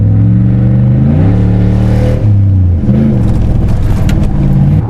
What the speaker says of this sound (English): Sounds like a V8 Symphony if you ask me.